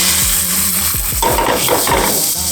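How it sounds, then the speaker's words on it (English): Butter sizzling and frying in a pan, a steady loud hiss close up, with several thumps and scrapes of stirring in the pan. "I love frying up butter."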